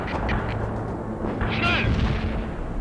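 Booming artillery fire in the World in Conflict war game rumbles loud and continuous, with explosive bursts and a whistling sweep near the middle, all mixed under a voice giving radio-style orders.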